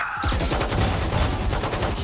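Dense, rapid gunfire fills a Counter-Strike match in an ESL tournament final in Bursa, continuous overlapping shots rattling at close range for about two seconds with no voices.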